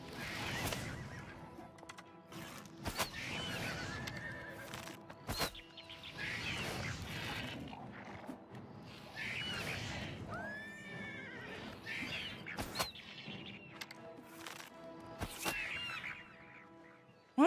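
A horse in the video game Oblivion Remaster neighs and whinnies repeatedly while under attack, with hoof clip-clops and sharp hit sounds between the calls, fairly quiet overall.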